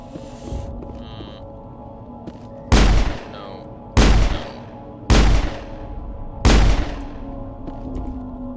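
Four heavy shotgun blasts boom in Mass Effect, spaced roughly a second apart, each a loud, sharp report with a rumbling tail over a low, humming game ambience.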